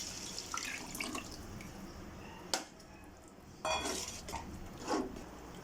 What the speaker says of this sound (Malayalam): ഇനി നമ്മൾ നേരത്തെ മാറ്റി വെച്ച ചിക്കൻ സ്റ്റോക്ക് ഒഴിക്കുകയാണ്.